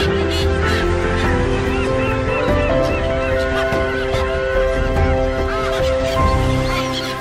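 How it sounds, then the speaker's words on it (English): A dense flock of terns calls at sea with overlapping harsh, honking cries, loud and continuous. "These amazing terns really are true birds of the sea."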